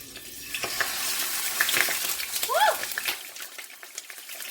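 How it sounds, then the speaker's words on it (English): Fish pieces for Filipino escabeche fry in a pan with a steady, busy sizzle and crackling oil spatter, a brief clink of a utensil partway through, close and fairly quiet. "let me finish frying the fish"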